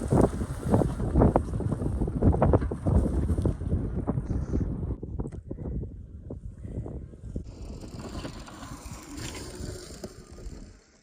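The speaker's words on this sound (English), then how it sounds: "the wind is raging" Strong wind roars and buffets a microphone outdoors during a ride on a Cyrusher Trax all-terrain e-bike. The noise is loud and continuous, with some rattling mixed in, and eases slightly toward the end. Nobody talks.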